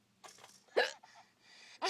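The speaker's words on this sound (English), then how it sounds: "Mama has the hiccups." A woman hiccups, sharp breathy catches heard close in a quiet room, a few irregular spasms with one louder jolt in the middle.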